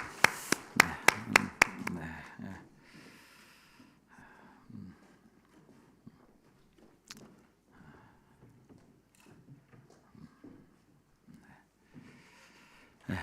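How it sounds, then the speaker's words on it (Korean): A church congregation claps in praise during a Sunday worship service, a short burst of loud, evenly spaced claps at the start that dies away into quiet room noise with faint scattered voices. "우리 하나님께 영광의 박수 올려드립니다"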